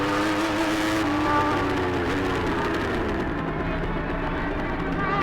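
Formula Pacific racing motorcycles at an AFM 2013 round, one rider lifting the rear wheel into turn nine, roar past on the track in a loud, continuous engine howl whose pitch rises and then drops as they go by.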